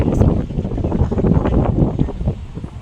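Strong gusts of wind buffet the microphone at a high viewpoint over Old Taipa, a rough, rumbling roar that swells and fades throughout.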